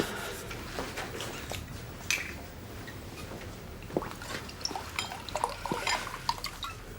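Water poured into a glass in a quiet indoor room: a soft, close trickle with faint drips and light clinks over about seven seconds, no voices.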